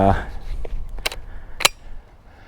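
A gunshot fired while target shooting to prepare for turkey season cracks out as a single loud broadband burst, followed by a second sharp report a moment later, with speech before and between.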